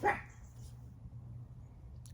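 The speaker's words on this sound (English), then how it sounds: "sorry if the dog starts barking" A dog gives one short, fairly loud bark at the start, close to the listener, followed by low steady background rumble and no further barking.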